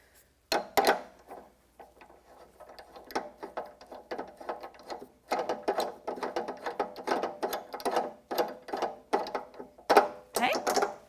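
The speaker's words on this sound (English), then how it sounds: "Make sure it's threaded all the way in" Plunger threading into an Allegro reformer frame gives a run of quick ratcheting metal clicks, sparse at first and then in a dense, uneven burst, close and fairly quiet.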